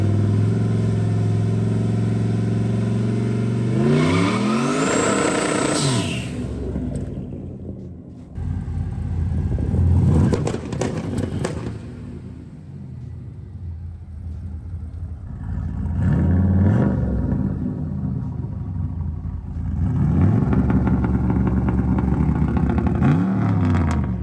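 A Chevrolet S10 truck's engine revs repeatedly while driving, with loud rising surges and gear changes separated by quieter lulls, heard up close without talk.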